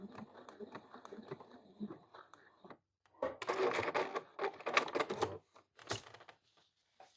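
A sewing machine fitted with a buttonhole attachment stitching a buttonhole in curtain fabric for a tie back, rapid mechanical clatter in a short burst, then louder broken bursts with a voice speaking nearby.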